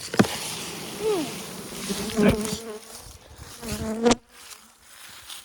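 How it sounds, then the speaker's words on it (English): A dense, steady buzz of many bees in a hive box close by, with a short spoken exclamation and some handling noise partway through. "That is a box of bees."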